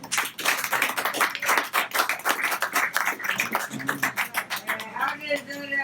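Audience clapping at a poetry reading, a quick burst of many hands that swells and then tapers off as a voice comes in near the end.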